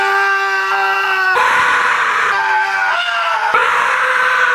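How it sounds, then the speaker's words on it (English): A person yells loudly and at length in a home gym, a strained, sustained shout that shifts pitch in a few abrupt steps and stays loud and close throughout. "Is it being able to yell?"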